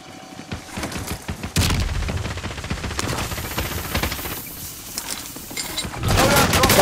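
Bursts of automatic rifle fire and scattered shots in Call of Duty Warzone on the Verdansk map, loud and near, with dense volleys around the middle and a heavy burst at the end, under intermittent talk.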